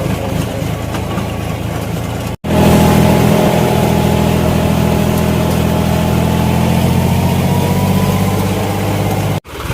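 A farm tractor hitched to a water tanker runs steadily with a loud, continuous engine drone and gentle revving, close by, briefly cut twice, with no talking.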